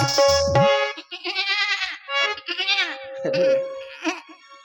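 A voice imitates a goat, producing a string of wavering, nasal bleats in uneven bursts, close and fairly loud during a comic stage performance of a village Ramlila.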